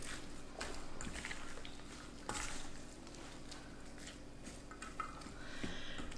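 Salt being mixed into tuna and wahoo ceviche in a bowl: soft, scattered clinks and scrapes of a utensil against the dish, quiet and irregular.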